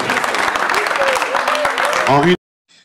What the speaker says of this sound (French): On les applaudit très très fort avec un maximum de bruit s'il vous plaît